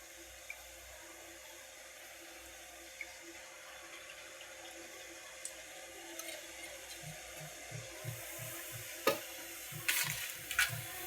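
Tempering fries in oil in a kadhai with a steady low sizzle, then some clinks and stirring knocks grow louder toward the end.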